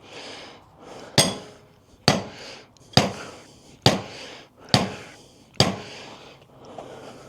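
Six sharp metallic hammer strikes ring out at roughly one-second intervals against the sprocket of a Triumph Scrambler 400, each hit close and loud with a brief ringing decay and quiet gaps between blows.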